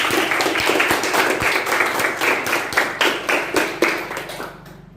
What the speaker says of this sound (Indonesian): Kita berikan aplaus lagi dulu.